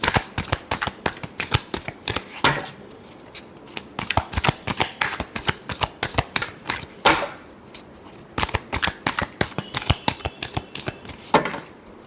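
Tarot cards are shuffled for a reading in a rapid, close riffling patter that runs in bursts across the clip, with a few louder snaps as the deck is squared between shuffles.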